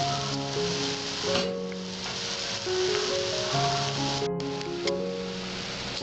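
Banana fritters frying in hot oil, a dense, steady close sizzle with bubbling crackle and faint shifting as pieces are moved, no talk.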